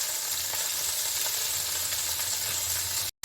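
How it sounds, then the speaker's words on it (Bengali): Paneer frying in very hot oil in a pan, a steady loud sizzle and hiss that continues throughout before cutting out briefly near the end. "একটু বেশি তেলটা গরম করেছি, তাহলে তাড়াতাড়ি ভাজা হয়ে যাবে"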